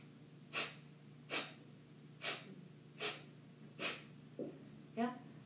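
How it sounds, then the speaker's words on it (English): Kapalabhati yoga breathing: a regular series of six sharp, forceful nasal exhales about one per second, each drawing the navel in, loud and close over a quiet room hum, with a softer breath between the last two. "it's a sharp exhale that draws the navel in, and it sounds kind of like this"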